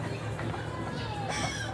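Chickens cluck near a harlequin peacock enclosure, short fowl calls over a constant background hum, moderately loud and close.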